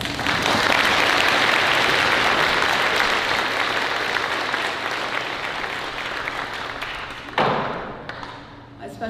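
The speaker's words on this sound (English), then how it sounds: "Please join me in giving them a round of applause." Sustained audience applause at a Wiikwemkoong post-secondary graduation ceremony, a dense, even wash of clapping hands throughout that thins slightly toward the end, with a brief louder burst near the close.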